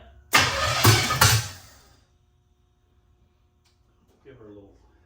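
A hot rod 327 Chevy V8 cranks and fires in a loud, close burst of roughly a second and a half, with a couple of surges before dying away into quiet, then a voice speaks briefly.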